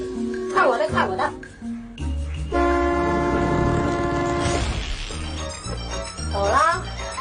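Nearby, a car horn with a deep train-horn tone holds a long, loud, steady blast for about two seconds, with people talking before and after it.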